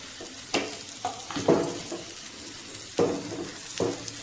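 Browned onion and grated coconut roasting in a pan for onion thambuli, with spatula strokes scraping and stirring at intervals over a light sizzle, close by and without talking.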